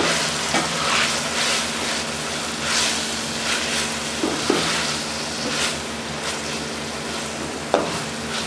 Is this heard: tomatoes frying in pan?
yes